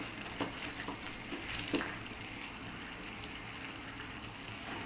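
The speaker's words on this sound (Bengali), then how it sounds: "এখন আমি শাকটা ঢেলে দিলাম দিয়ে নেড়ে ছেড়ে দিব ভালো করে" Taro leaves are stirred into lentils frying in a pan, producing a soft, steady sizzle broken by a few scraping stirs, fairly quiet and close.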